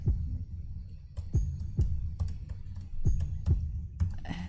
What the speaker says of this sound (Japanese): タイピングむずい。